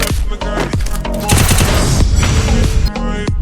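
Rapid bursts of gunfire in the mobile shooter game Free Fire, loud and continuous machine-gun rattling with sharp individual shots and booms throughout.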